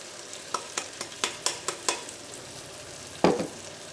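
A spoon stirs carrots with ground fenugreek and asafoetida for pickle in a pan, making a run of sharp scraping clinks in a quick uneven rhythm, then one louder scrape after a pause.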